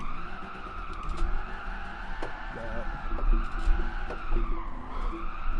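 Tires skid and squeal continuously as a drift car slides in Gran Turismo 7, played with a G29 wheel and shifter, over a steady engine drone with repeated sharp transients.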